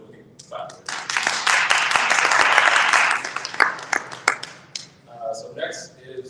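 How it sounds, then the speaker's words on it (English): A panel-discussion audience breaks into applause to welcome a panelist, a dense burst of clapping lasting about two seconds before thinning into scattered claps, with a speaker's voice returning near the end. "Then we can clap."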